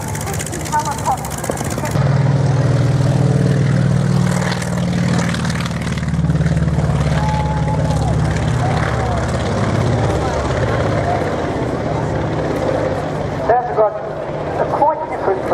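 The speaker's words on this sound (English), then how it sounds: "This is probably one of the most, as I would say, tricky helicopters." A three-bladed helicopter flies at the Tyabb air show in windy conditions, its engine and rotor making a steady droning whir that holds for most of the fifteen seconds, with wind noise and a person talking over it.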